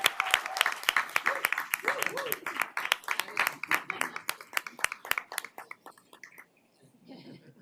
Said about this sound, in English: Give her a round of applause for completing such a great thing.